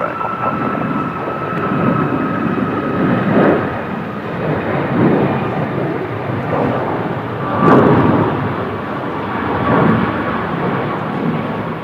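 A Boeing 737 Max 8 at Brisbane Airport, in strong winds on a single-runway operation, makes a loud, continuous deep engine roar that swells and fades over several seconds.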